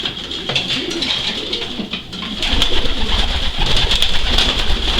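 Racing pigeons coo in a loft, soft repeated throaty calls that continue steadily, with a deeper rumble of nearby birds joining partway through; no talking.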